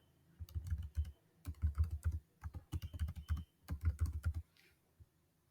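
Close, clear keystrokes on a computer keyboard as a password for a local admin account is typed during a Windows Server 2025 setup, in bursts of rapid taps separated by short pauses, with no voice present.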